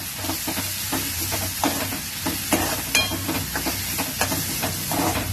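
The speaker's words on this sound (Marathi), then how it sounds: "कांद्याबरोबर परतून घ्यायची." Karandi, dried shrimp, sautéing with onions in a hot pan: a continuous close sizzle and hiss broken by repeated stirring scrapes and taps of a spatula at an uneven rhythm.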